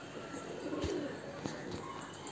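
Caged racing homer pigeons cooing, low rolling calls from a few birds nearby, steady and soft with a couple of brief knocks.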